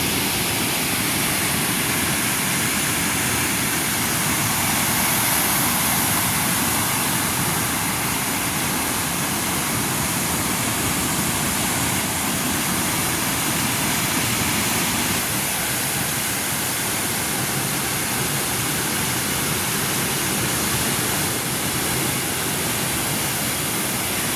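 Water pours through the opened sluice gates of a flooded village reservoir, raised about two feet, in a loud, steady roar that stays dense and unbroken throughout with no voices over it.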